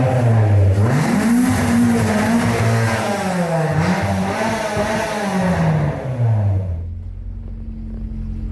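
A revving old Honda Integra sedan that runs a little rich roars loud and close, its pitch climbing and falling through several revs before it cuts off to a low idle hum.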